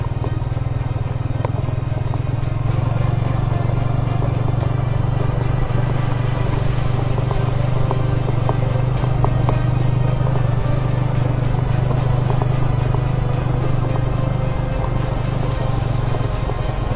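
A motorcycle rides along an extreme railway line from Tagog Apu to Cipatat, its engine a steady low drone with clattering and rattling over rough track, close and constant with no talking.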